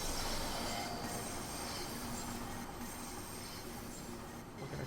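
Simulated train in Train Sim World 2 rolling steadily on rails on a slight downhill, with a constant rumble, faint wheel squeal and hiss throughout, no talking.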